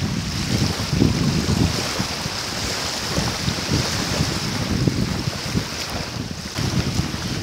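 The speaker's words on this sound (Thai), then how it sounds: "ลมมันแรงมากนะครับ" Strong wind roars steadily across the microphone while fishing outdoors at a natural lake spot, with a constant gusty rush and buffeting low rumble lasting throughout, no voices.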